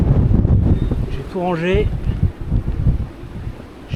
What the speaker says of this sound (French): on a 26 à 30 nœuds de vent sur le mouillage